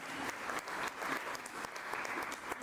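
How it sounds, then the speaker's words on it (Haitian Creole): Warm audience applause at a professional orientation forum panel, a steady dense wash of many hands clapping throughout, moderately distant and without talk. "je vous prie d'applaudir chaudement"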